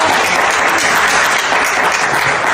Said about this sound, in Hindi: तालियां मारो ताली।